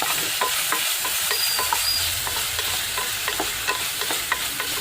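A black-eyed pea and brinjal curry with tomato is stirred in a pan, a continuous low sizzle with frequent light scraping and tapping of the spoon, close and without speech.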